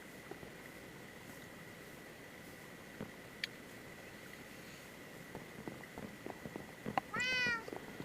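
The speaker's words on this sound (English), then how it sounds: "So I rescued that cat from near the lava pool." Minecraft cat in the Enigmatica 2 modpack giving one short, rising meow near the end, preceded by quiet game ambience and faint clicks and steps.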